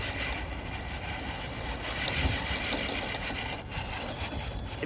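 An RC crawler's electric motor whirs in a steady, close mechanical buzz that slightly rises and dips over several seconds, running continuously without voices.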